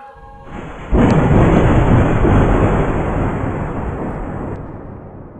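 A loud crash of thunder rolls through a stormy Halloween night over marshland, swelling suddenly after a quiet moment and then rumbling on with a steady roar of rain and wind.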